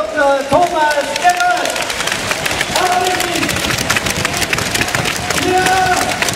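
At a Munich innkeepers' meeting, an audience claps for its regional party manager, giving a steady, close patter of many hands that runs throughout, with a voice speaking over it at times.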